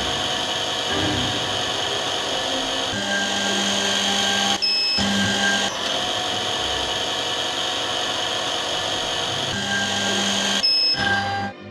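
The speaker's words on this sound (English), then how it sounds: "Press the lever to start drilling." A digital lens drilling machine whirs steadily as it drills holes in an eyeglass lens, a continuous motor hum with high whining tones that briefly cuts out and restarts several times, close and alone.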